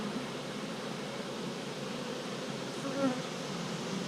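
Honeybees on a brood frame give off a close, steady, dense hum that holds level throughout.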